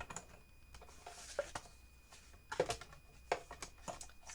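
A Stampin' Cut and Emboss machine is cranked to cut a paper window, giving a series of soft clicks and ratcheting taps at uneven intervals, close and fairly quiet with no talking.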